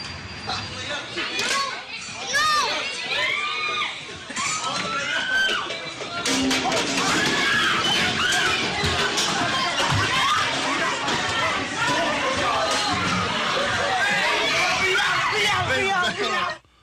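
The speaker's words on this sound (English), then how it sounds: "here's the reaction from the crowd. They didn't like it at all." A crowd of children reacts loudly to a pet rat, a dense, continuous babble of young voices with squeals, laughter and overlapping chatter close by throughout.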